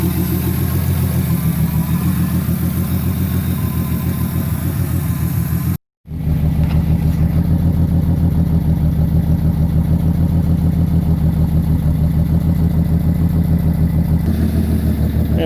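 A 1971 Dodge Dart's old six-cylinder engine idles steadily and close by with an even low rumble, cut by a brief dropout near six seconds before the idle carries on unchanged.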